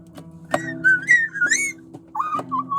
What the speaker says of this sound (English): just use it with the whistle blowing.